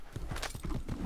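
Horse hooves clip-clop in a steady, even rhythm in the video game Assassin's Creed, close and fairly loud over a faint background.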